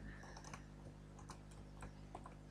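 Soft, quick clicks of someone typing Java code on a computer keyboard, an irregular run of faint keystrokes over a low steady hum, close and quiet.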